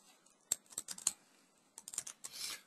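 Quiet keyboard typing during data import in AccuTrack/AccuSQL software, scattered irregular keystroke clicks in short clusters, close but faint, with no voices.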